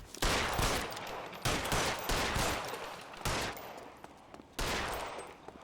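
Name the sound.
gunfire in the video game L.A. Noire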